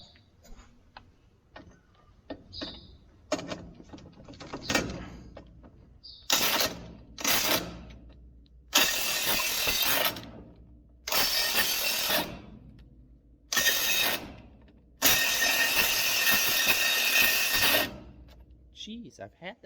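An impact wrench drives a chrome socket on a broken John Deere discbine, firing five loud, harsh bursts of a second or two each, separated by pauses. Clanks and handling noises come before them.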